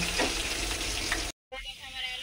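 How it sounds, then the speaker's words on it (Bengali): Potatoes sizzle in hot oil in a home kitchen pan, a loud, steady, close crackle that cuts out briefly. It resumes more quietly with a voice over it. "আলু কটা ভেজে তুলে রাখবো।"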